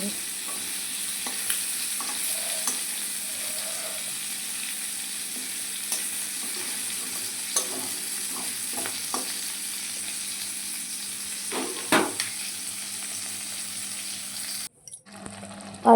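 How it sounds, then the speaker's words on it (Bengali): Steady sizzling of fish frying in hot oil until reddish-brown, with occasional clicks and scrapes of a utensil, cutting off abruptly near the end. "এই দেখো মাছ ভাজা তো হয়ে গেছে"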